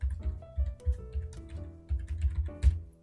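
Quick bursts of typing on a computer keyboard, close and crisp key clicks in uneven clusters with brief pauses between them, no talk.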